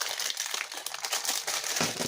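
Plastic packaging crinkles and crackles steadily during a sticker unboxing, a close, continuous rustle with small sharp crunches and no talking.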